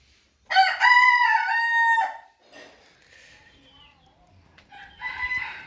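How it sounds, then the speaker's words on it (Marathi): A loud, close rooster crow rings out once at six in the morning in a village, followed by quiet rustling and then a second, fainter call building at the end. "कोंबडा आवाज देतोय"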